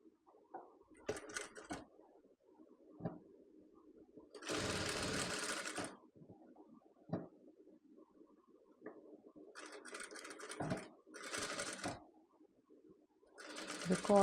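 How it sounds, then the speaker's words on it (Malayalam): A sewing machine stitches the neckline of a nighty made of rayon net fabric. It runs in several distinct bursts of rapid whirring, the longest about a second and a half, separated by quieter handling noises and faint background sound. "അപ്പോൾ ഇനി അത് ഒന്ന് സ്റ്റിച്ച് ചെയ്തിട്ട് എടുക്കാം കേട്ടോ"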